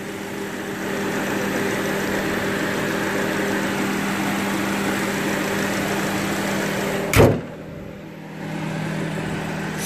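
A 2011 Subaru Outback 2.5i boxer engine idling, a steady low hum with a faint whine, interrupted by a single sharp knock near the end before the hum resumes.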